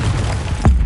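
A Confringo blasting spell from Hogwarts Legacy lands as one short, deep boom near the end, rising sharply out of steady game ambience.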